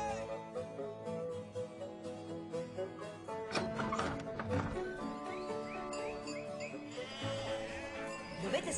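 Sheep bleating in an Italian comedy film scene, several wavering bleats overlapping, with hoof clip-clop and animal noise beneath and a fairly full rural soundscape, no clear speech.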